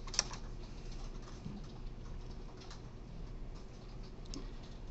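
Rapid typing on a computer keyboard during a recorded programming lecture, a continuous quiet patter of key clicks with no voices.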